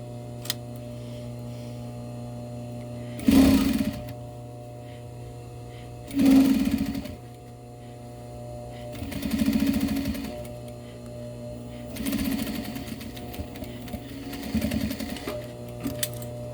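Sewing machine stitching a zipper into a light jacket or hoodie, running in short bursts of a few seconds each, about five runs separated by pauses with a steady background hum.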